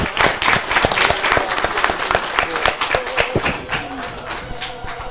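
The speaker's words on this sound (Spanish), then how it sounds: "Recibámoslo con un fuerte y caluroso aplauso." Warm applause from an audience greeting a guest of honor at a school event in Miahuatlán, a steady wash of clapping with sharp individual claps standing out and a faint voice beneath, holding strong for about five seconds.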